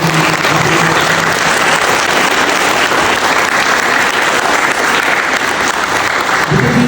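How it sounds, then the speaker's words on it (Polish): A large school assembly audience gives teachers a long, loud round of applause on National Education Day, a dense, sustained roar of clapping holding steady for several seconds. "Wielkie brawa dla nauczycieli."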